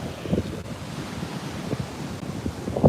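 Ocean surf rolls onto a Montauk beach in a steady wash, with wind buffeting the microphone and a few soft breaking surges heard nearby.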